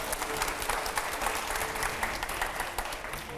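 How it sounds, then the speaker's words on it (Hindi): Full, sustained applause from a studio audience on a TV talk show set, dense rapid clapping that stays steady and loud across the whole stretch with no voices over it. "दिखाइए जोरदार, पहले तालियां हो"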